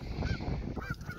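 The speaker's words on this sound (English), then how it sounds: "There goes the geese." Geese honking on a farm pond, a few faint distant honks in quick succession.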